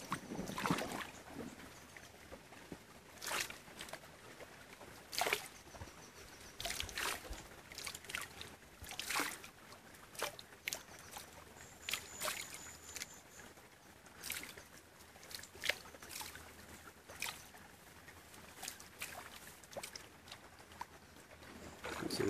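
A TurboPan gold pan swirled in a mountain stream among loose gravel and dirt, with irregular close splashes and sloshing water over a constant background of flowing stream.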